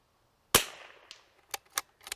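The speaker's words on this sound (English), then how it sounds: "I'm going to shoot off the gun a little bit." A single sharp rifle gunshot with a ringing tail, loud and close, followed by a few fainter cracks or impacts in quick succession.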